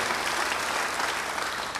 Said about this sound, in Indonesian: Beri tepuk tangan yang baik buat dia.